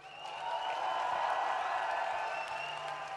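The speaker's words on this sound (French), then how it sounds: "Merci, vous pouvez vous applaudir évidemment." A crowd at a political meeting gives a sustained round of applause, a dense, steady wash of clapping that swells slightly and holds at a moderate level from a hall full of people, without speech over it.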